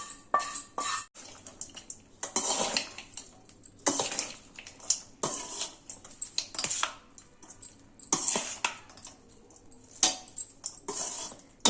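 Fried eggplant is mixed into vangi bath in a pan, a spoon scraping and clinking against the metal in irregular strokes, close but fairly soft with quiet gaps between.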